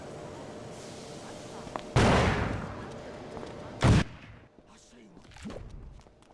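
Shotgun blasts in the video game Stubbs the Zombie: two loud, heavy booms about two seconds apart, each with a short rumbling tail, followed by quieter game noise.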